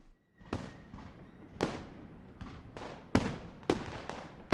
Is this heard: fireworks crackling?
yes